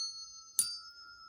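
Two bells pitched a half step apart ring out: one tone already sustains, then a second bell is struck with a bright metallic hit, and both hum together and slowly fade in quiet surroundings.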